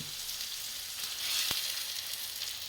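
Breakfast egg mixture poured into a hot pan, giving a steady close sizzle with a brief hiss swell midway, with no talking.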